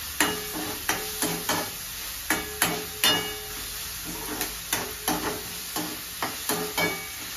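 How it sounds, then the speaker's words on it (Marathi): Capsicum sautéing in a pan, a faint steady sizzle broken by a regular series of sharp spatula scrapes and taps as it is stirred. "ढोबळी परतून झालेली आहे."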